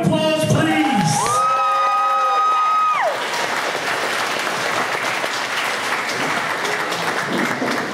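Audience at a charity auction during an anime convention breaks into loud, sustained applause and cheering after a tonal musical passage fades, a dense crowd roar filling the remaining seconds with no talking.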